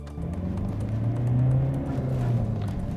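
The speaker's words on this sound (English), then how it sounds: "Peugeot reckon this is one of the quietest diesel engines around" A Peugeot diesel car engine revs up as it accelerates through the gears, a low steady drone rising in pitch, heard from close by with no talking.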